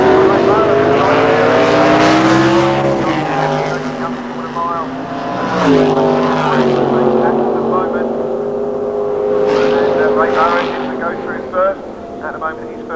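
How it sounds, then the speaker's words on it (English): A small block Chevy V8 dragster of 304 cubic inches roars at a drag race, loud rising and falling engine surges over several seconds, heard under an announcer's continuous commentary. "Small block Chevy, 304 cubic inches of V8 Chevrolet power."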